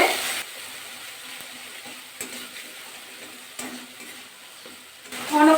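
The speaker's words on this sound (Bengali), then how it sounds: "ভালো করে কিন্তু মশলাটা কষিয়ে নিতে হবে" Spice masala being stirred and fried in a pan for a vegetarian cauliflower curry with cashews, a steady close sizzle with soft scraping strokes and a brief louder clatter near the end.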